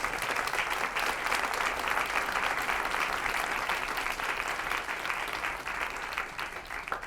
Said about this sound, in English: Can we just please give Christiana Figueres a round of applause?